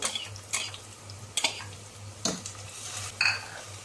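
Onions, ginger garlic paste and turmeric frying in oil, with a few sharp spatula scrapes and clinks against the pan spaced over a low steady hum and a faint sizzle.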